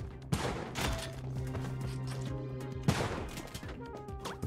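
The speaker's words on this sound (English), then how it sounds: "We're gonna throw a bomb down on him." Bombs exploding in the video game Spelunky 2, two sharp blasts about two and a half seconds apart amid busy game effects and music.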